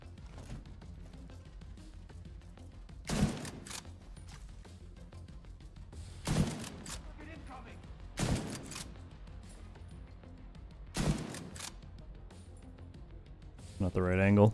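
Gunfire bursts in the DZ South video game, four sharp loud shots spaced a few seconds apart over low background ambience, with a short rising electronic tone at the end.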